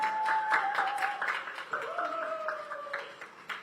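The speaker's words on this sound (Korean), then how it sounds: "저희 박선호 감독님을 박수로 모시겠습니다" Audience applause at a Korean drama press event, steady claps under a voice speaking over it, with a sustained tone running through much of the clip.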